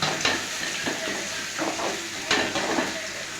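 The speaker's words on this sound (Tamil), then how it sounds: "வெங்காயம் போட்டாச்சு. நல்லா பொரியட்டும் குழம்புக்கு." Chopped onions sizzle in hot oil for a kuzhambu, a steady quiet hiss broken by a few soft scrapes of stirring.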